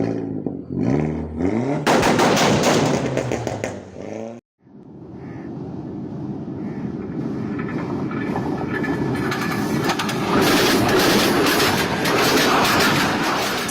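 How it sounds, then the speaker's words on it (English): A train rolling over jointed rails, its clickety-clack loud and close, breaking off briefly midway and then resuming as a sustained rumble. "the clickety-clack sound of a train is caused by tiny gaps between the rails"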